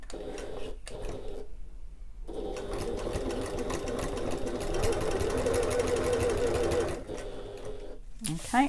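A domestic sewing machine runs in steady bursts while stitching down the end of a sling bag strap, with brief pauses between runs, close and fairly loud.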